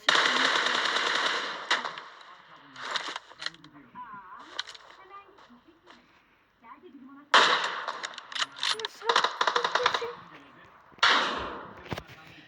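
Rapid bursts of video game gunfire crackle loud and close in several volleys, dying down to quieter shots and game noise in the middle before surging again near the end.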